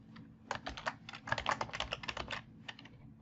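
Steady, fast typing on a computer keyboard in a Power Automate workflow, clusters of close clicky keystrokes in quick runs with a brief gap near the end, no voices.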